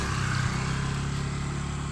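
A motorcycle engine starts up and runs steadily at a low idle, a continuous close rumble with no voices over it, on a farm where dogs are around.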